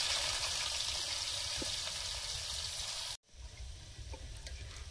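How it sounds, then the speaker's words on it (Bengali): Potatoes frying in a pan in a home kitchen: a steady, loud hissing sizzle cuts off abruptly, then resumes more quietly with light crackles. "আয়ুষের আলুটা আগে ভেজে দিই"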